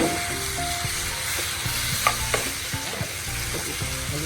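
Chicken seasoned with plenty of black pepper sizzles steadily in a pan, broken by several sharp clinks and scrapes of a utensil stirring it, close and fairly loud with no talking.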